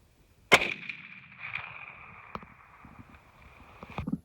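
A single sharp .30-06 rifle shot cracks out during a desert javelina hunt in Arizona, followed by a long ringing decay and fainter knocks and rustling afterward.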